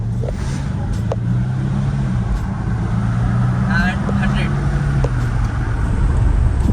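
Six-cylinder car with a Mansory interior accelerating to 100, its engine droning steadily and loudly under a voice talking throughout.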